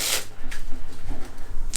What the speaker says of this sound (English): I'm going to start with giving the deck a little cut, and then we'll give it a couple of shuffles.